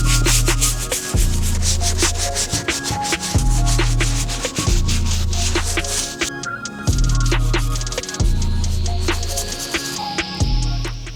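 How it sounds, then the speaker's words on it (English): A medium all-purpose brush scrubs the midsoles and back tab of 2014 Air Jordan 6 Infrared sneakers, a loud, close, continuous rhythmic bristle rasp in repeated back-and-forth strokes. "finish off this cleaning by using our medium all-purpose brush to clean up these midsoles and clean up this back tab"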